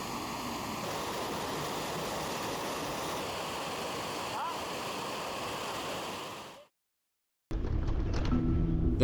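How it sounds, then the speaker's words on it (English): A waterfall in a Chilean forest along the Monkey Puzzle Trail roars as a steady broadband rush of falling water, loud and continuous, then cuts out briefly before the torrent returns. "we visited a nearby waterfall."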